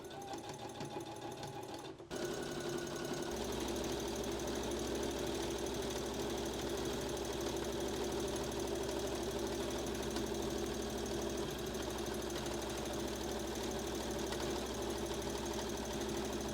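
A sewing machine stitching the side seam of a gathered skirt down to the hem, running steadily and loudly with a continuous whirring hum after a brief start, no talk over it.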